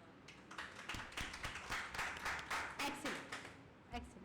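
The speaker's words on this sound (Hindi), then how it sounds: "अब बहन के लिए तालियां बजाओ।" Schoolchildren in a classroom give a classmate a round of applause, a steady patter of many small hands clapping at moderate distance for a few seconds before fading, with a voice briefly speaking near the end.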